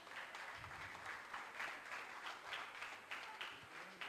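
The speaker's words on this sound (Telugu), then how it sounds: "మీరందరూ ఒకసారి అందరూ క్లాప్స్ కొడితే బాగుంటుంది అనుకుంటున్నా" Applause from an audience at a church Sunday school candle lighting service, steady clapping sustained throughout at moderate distance.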